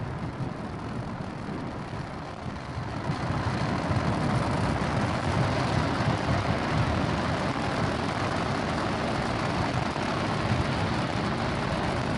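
A SpaceX Falcon 9 rocket in flight; a broad, steady roaring rumble that swells after a few seconds and then holds as a powerful continuous drone, with no voices.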